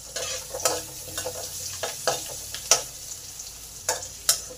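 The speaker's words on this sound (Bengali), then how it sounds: "রসুনগুলো ভালো করে ভাজা হয়ে গেছে।" Chopped garlic with chilli sizzles in hot oil in a pan for chicken khichuri, a steady hiss broken by sharp scraping clicks of a spoon stirring the pan.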